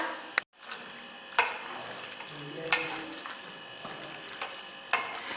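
Onions hitting a hot oiled pan for a Bengali chicken curry, with a soft crackling sizzle, a few sharp clatters of a utensil against the pan and quiet stirring scrapes in between.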